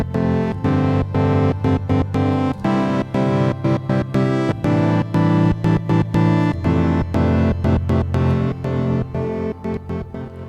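Sonicware Texture Lab granular effects processor fed with chords, a sequencer gating the filter into a steady chopped rhythm; dense sustained tones pulse on and off in quick regular bursts, loud and close with no talking.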